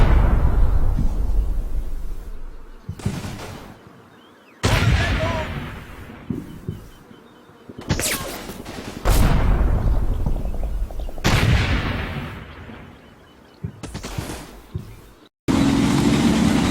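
Artillery and gunfire in the World War II strategy game Combat Mission at the Neerpelt bridgehead: loud, booming blasts arrive at irregular intervals, each rolling off into a long fading rumble.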